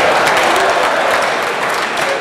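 Dense, continuous applause from a crowd of Rivers State traditional rulers during a governor's speech, steady clapping filling the room with a voice faintly under it.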